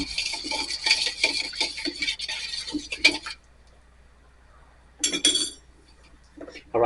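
A utensil stirs Cajun seasoning in a bowl, clinking and scraping in a quick close run that stops, then resumes briefly after a short pause.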